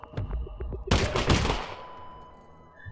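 A loud burst of machine-gun fire in the video game Half-Life: Alyx, a sharp rattling volley lasting about half a second after a few faint clicks, then fading into a low hum.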